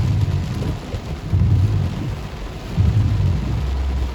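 Rain falls steadily during a drive along the Alabama Gulf Coast, heard as a dense wash of noise inside the car with low rumbling swells that come and go.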